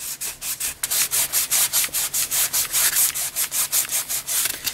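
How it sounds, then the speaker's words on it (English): A sanding sponge rubs paint off a metal can in quick, steady back-and-forth strokes, about twenty loud, close, rhythmic rasps with no talking. "I'm going to take off the surface, the paint there, and to do that I'm going to use a sanding sponge."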